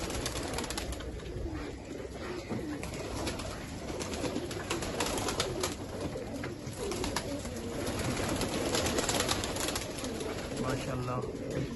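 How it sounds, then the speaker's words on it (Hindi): Performance pigeons kept on a rooftop coo in a low, soft, continuous murmur, with some fluttering, beneath steady background noise and the talk of a man nearby. "सारे परफॉर्मेंस वाले कबूतर हैं हाजी साहब के"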